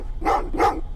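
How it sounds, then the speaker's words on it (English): Two sharp dog barks about a third of a second apart, close and loud, in Terminator: Resistance; no voices alongside. "Well, what's with the dogs?"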